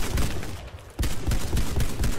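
An auto shotgun firing rapidly in the video game Warface, a dense burst of loud, booming shots, briefly pausing before another fast volley.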